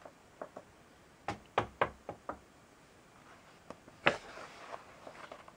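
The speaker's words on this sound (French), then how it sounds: "Il frappa." Several sharp knocks on a door come in small irregular clusters, fairly close and crisp against a quiet background, with no speech.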